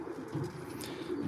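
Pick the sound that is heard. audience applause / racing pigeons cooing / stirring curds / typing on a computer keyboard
racing pigeons cooing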